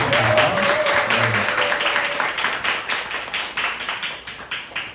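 A congregation at a Sunday church service claps after a special lecture, the applause strong at first with a voice briefly over it, then thinning into scattered, separate claps as it fades.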